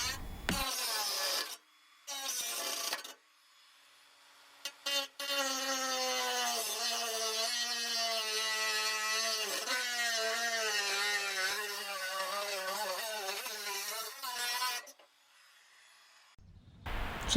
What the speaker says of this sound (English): we're going to use a reinforced Dremel cutoff wheel with our Ryobi oscillating tool to finish this section up